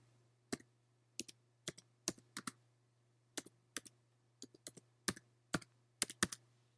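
Search keywords typed on a computer keyboard in a quiet room, with short bursts of crisp key clicks in irregular clusters and pauses against a low steady hum.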